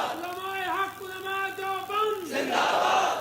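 A crowd at a religious gathering in Chakwal chants slogans in unison, two loud rhythmic call-and-response bursts of voices that swell and then break into a roar of cheering.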